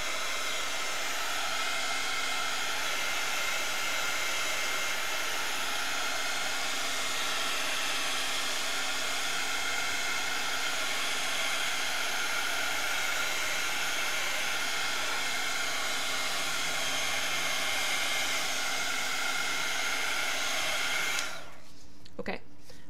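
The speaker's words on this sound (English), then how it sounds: "heat tool to dry some of this area so I can keep painting. It's gonna make some noise" A handheld heat tool blows steadily for about 21 seconds to dry paint on a portrait, a loud continuous airy roar that cuts off abruptly near the end.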